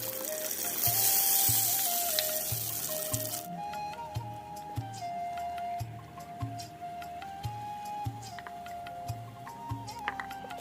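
Dried red chillies and bay leaves hit hot oil in a mini kitchen pan, giving a strong sizzling burst for the first few seconds that drops to a quieter fry, with faint regular ticking throughout.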